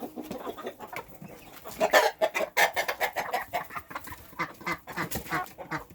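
A rooster clucks repeatedly in quick, uneven bursts, close and fairly loud, with no talking.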